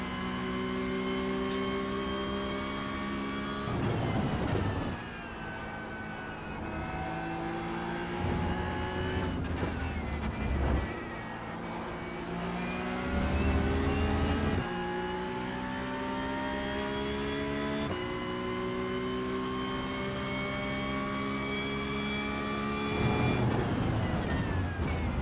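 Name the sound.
Porsche Cup race car engine in iRacing video game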